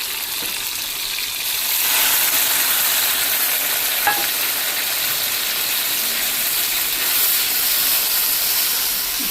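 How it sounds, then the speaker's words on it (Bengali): Spices are stir-fried in a pan with a steady, close sizzle and hiss. Scraping stirs cut in now and then, and no one talks. "আমি মশলা অনেক ভালো করে কষাইয়া তারপরে রান্না করি।"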